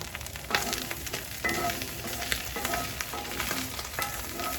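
Garlic and aromatics sizzle in a hot pan for a cheesesteak filling, a steady crackling fry with occasional stirring scrapes, close and continuous with no talking.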